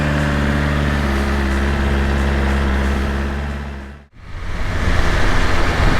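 A 2023 BMW S1000RR motorcycle engine drones loud and close as a steady on-road roar, dips suddenly to near silence at a gear change, then swells back up.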